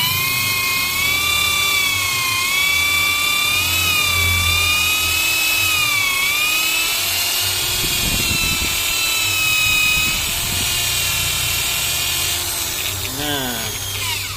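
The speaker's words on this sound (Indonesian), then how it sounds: "Jadi pengamplasan ini pakai metode bor ini bisa juga buat pergantian" Sandpaper mounted on an electric drill sands a bearing mold in a long, loud, whining high-pitched drone with shifting pitch, steady throughout, easing and wavering near the end.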